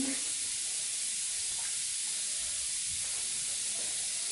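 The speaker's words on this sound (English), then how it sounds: "I think you guys can hear that fizzy noise. And it kind of looks like soda." An LOL Pearl Surprise toy fizzes like soda, a continuous, close, bright hissing that stays steady and fairly loud throughout.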